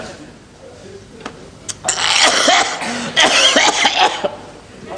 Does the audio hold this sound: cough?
yes